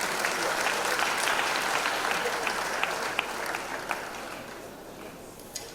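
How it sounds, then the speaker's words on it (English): An audience in Benin City applauds Governor Godwin Obaseki at a democracy dialogue, giving steady, dense clapping that holds evenly for several seconds before easing slightly at the end. "Please a round of applause for him."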